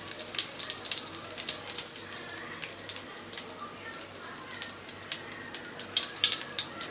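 Bay leaves and cumin seeds fry in hot oil in a pan for a hilsa pulao, giving a quiet, continuous sizzle. Small crackles and pops come at an uneven rhythm throughout.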